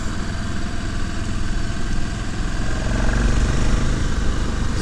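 A motorcycle engine with 60 Nm of torque runs steadily on a ride uphill, a continuous close rumble that swells slightly toward the end, with no voices.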